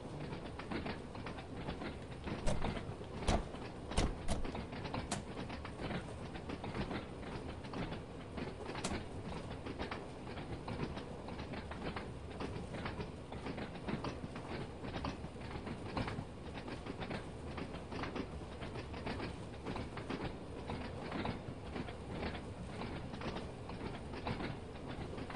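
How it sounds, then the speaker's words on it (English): An old underground train runs from Ryde Pier to Shanklin on the Isle of Wight in a driving game, with a continuous rhythmic clickety-clack of wheels over rail joints and steady rolling noise, moderately quiet and without voices. "The old underground train."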